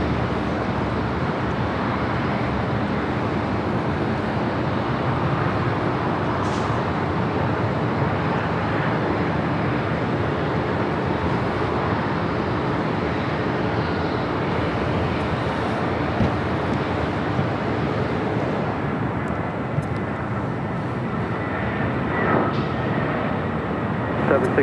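Delta Air Lines Airbus A320 arriving from San Francisco at Los Angeles International Airport, heard as a steady broadband jet rumble that holds throughout from a moderate distance, with faint background sounds.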